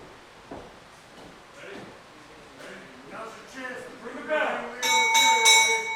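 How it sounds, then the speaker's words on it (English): Several sharp, ringing strikes of a wrestling ring bell at a pro wrestling show start a match, loud and close, following a commentator's talk. "the bell has rung, and we are underway"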